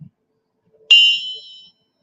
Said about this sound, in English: I'm going to tang the gong